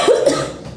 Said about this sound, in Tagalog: May mga ubo.